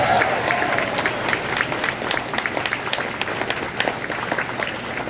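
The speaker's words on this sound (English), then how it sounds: "let's give them another round of applause for doing so well today" Audience applause at a middle school beginners band concert, a steady crowd clapping filling the room for the whole stretch, moderately loud with no one speaking over it.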